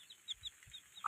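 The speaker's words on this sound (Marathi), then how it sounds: "कशी आहे ती बघा आपली गावंढळ कोंबड्याची गावंढळ पिल्ली." Village chickens and their chicks make faint, close peeping and soft clucking in short bursts, with a louder call at the very end.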